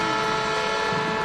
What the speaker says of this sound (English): they've got a train horn thingy